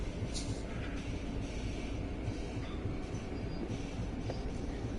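Train rolling steadily on rails in a train simulator game, a continuous close rumble with faint wheel squeal and rail noise throughout, no voices.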